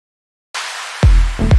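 After a brief silence a filtered noise swell rises, then a deep, booming melodic techno impact lands, followed by a second heavy hit a beat later, loud and alone.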